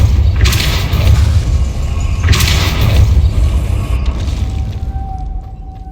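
A Depulso spell cast in the game Hogwarts Legacy, heard as two heavy whooshing bursts with a low rumbling thump, loud and close against a dense, booming background.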